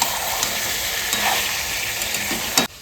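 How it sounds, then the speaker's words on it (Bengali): Mutton sizzles and crackles steadily as it is sautéed in a pan, a loud close continuous frying hiss with occasional stirring scrapes, cut off abruptly near the end. "মাংসটা কষাতে কষাতে জলটা বেরোবে, তারপরেই হলুদ দেবো"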